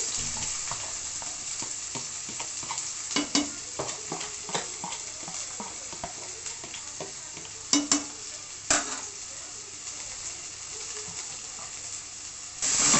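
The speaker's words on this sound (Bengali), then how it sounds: "এবার এর মধ্যে দিয়ে দিচ্ছি পেঁয়াজ কুচি," Chopped onions fry with dried chilli in a pan over low flame, a steady close sizzle punctuated by repeated sharp spatula scrapes and clacks, with no talking.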